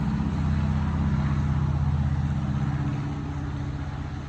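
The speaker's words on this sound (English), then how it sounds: "there's a loud truck going down the road right now" A loud truck rumbles past on a road nearby, a heavy, steady low engine drone that holds strong and then slowly fades as it moves away, with no one talking.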